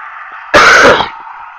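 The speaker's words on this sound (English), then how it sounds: "I've been having a cough recently." A person coughs and clears their throat in one loud, harsh burst lasting about half a second, set against a steady background hum.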